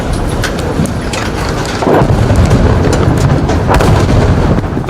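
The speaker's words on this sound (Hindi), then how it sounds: "पहले एक छोटा धमाका हुआ, सड़क किनारे खड़े रिपोर्टर ने भागकर अपनी जान बचाई। तभी दूसरा और तीसरा धमाका भी हो गया।" Explosions go off in Stepanakert, Nagorno-Karabakh, in news footage of wartime shelling. Loud, heavy blasts and rumbling follow one another, with a sharper surge of booms partway through and no voices heard.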